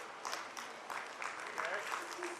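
At a school annual function an audience keeps clapping, a fairly faint, even patter of hands with voices talking over it.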